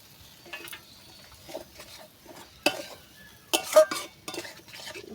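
Fried pointed gourd tipped into a pan of potato and spice masala and stirred, with intermittent scraping and clinking of utensil against metal over a faint sizzle, a few sharper knocks in the middle and near the end.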